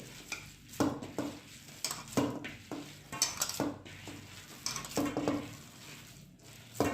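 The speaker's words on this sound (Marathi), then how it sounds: "तेल टाकलंय मी याच्यात एक जीव करून घेते" A spoon stirs oil into a coriander and pea mixture in a pan, with repeated soft scraping and sticky squelching strokes in an uneven rhythm, close and moderately quiet.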